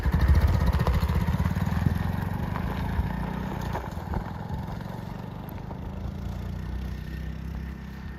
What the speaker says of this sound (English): fire right up, pull in on your clutch, put it down in first gear, you got a horn, and let's go for a ride